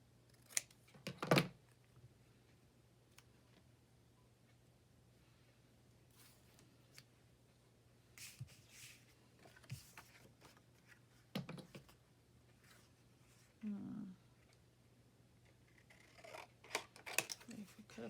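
Scissors cutting paper for a Christmas journal, a few quiet, brief snips and rustles scattered between pauses, with faint handling sounds close by.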